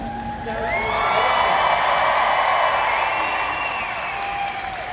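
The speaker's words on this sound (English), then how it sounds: "How about a round of applause for family?" Audience applause mixed with cheering and whoops at a graduation ceremony, swelling to a loud, dense roar through the middle and easing only slightly toward the end.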